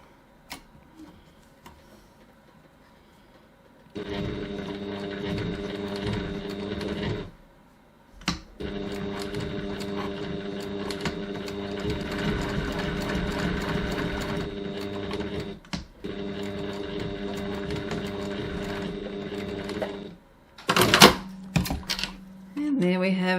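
A sewing machine stitches the strap tabs of a bag in several bursts of steady, close mechanical whirring, each a few seconds long, separated by brief pauses. Some clicks and handling noise follow at the end.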